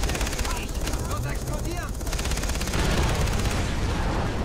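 A helicopter attacks in the shooter game Far Cry 3, its rotor chop pulsing steadily beneath dense, rapid machine-gun fire and blasts. Continuous loud combat fills the whole stretch, and a voice is heard briefly in the mix.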